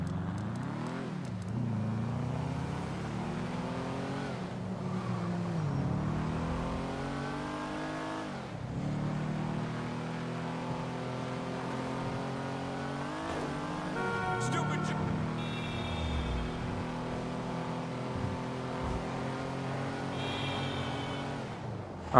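A car engine in Grand Theft Auto Online revs repeatedly, climbing through several gear-like pitch sweeps and dropping back, loud and up close, with talk over parts of it.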